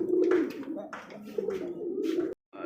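Lahori pigeons coo repeatedly at a bird market, low rolling calls close by with someone talking over them.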